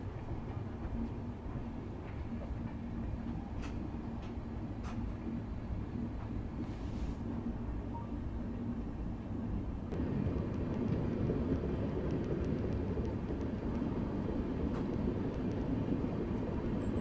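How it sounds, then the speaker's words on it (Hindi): The Vande Bharat Express, running from Agra toward Banaras, approaches along the line as a steady broadband rumble that swells and grows louder and denser partway through, with no voices over it. "वो सामने से आ रही है आगरा से चल के बनारस को जाने वाली वंदे भारत एक्सप्रेस"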